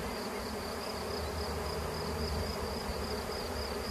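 A mass of honey bees fanning their wings while releasing pheromone during a swarm recovery: a dense, continuous close-up buzz with a steady high whine, unbroken throughout.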